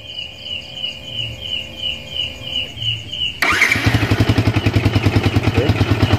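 A Yamaha motorcycle engine cranks and catches partway through, then idles and revs loudly with a fast pulsing beat close up; before that only a steady high insect-like whine and low hum are heard.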